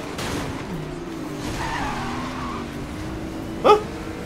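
A car skids and crashes in Need for Speed Most Wanted (2012), a low engine drone with a tire skid, then a short sharp impact near the end.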